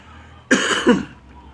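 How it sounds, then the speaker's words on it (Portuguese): A single harsh cough, followed by a shorter second cough, close to the mic in a quiet room. "Desculpe pela tosse"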